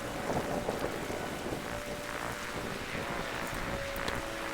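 Steady rain with a windy hiss falls without a break in a night scene of the Darkside Detective video game, continuous and even throughout with no voices.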